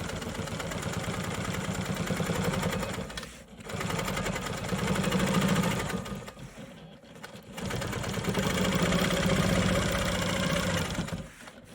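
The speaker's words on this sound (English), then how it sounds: "I'm just about done here stitching on the perimeter of this." A sewing machine stitches around the perimeter of a maple leaf quilt block, whirring rapidly in long runs broken by two brief pauses, close and loud with no talking.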